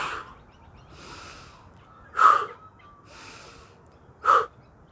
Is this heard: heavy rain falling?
no